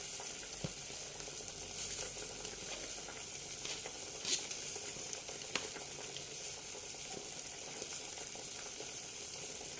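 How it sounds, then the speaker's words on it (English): Tomatoes and onions cook in a pan with a steady, close sizzle and crackle that runs throughout, broken by occasional small pops, with no voices. "then we just add the tomatoes and we leave them to cook"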